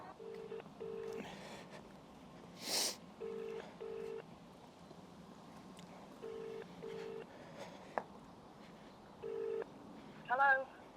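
A telephone call ringing out on the line, heard as a repeated double-pulse ringback tone in spaced pairs, fairly faint and close, with a few small clicks and a brief burst of noise between rings.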